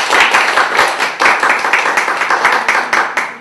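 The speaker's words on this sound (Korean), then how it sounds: "하나님께 감사하는 마음 박수를." Church congregation clapping at an anniversary worship service, a steady run of loud, close individual handclaps that drop off and restart in uneven bursts.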